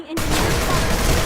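Walker turret on a vehicle in PlanetSide 2 opening up with a loud, continuous stream of rapid gunfire that starts suddenly and keeps going without a break.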